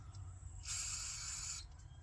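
A short, steady hiss of cleaner sprayed onto the ignition module surface of a 1989 Ford F150 with a 302, one burst of about a second, close and fairly quiet.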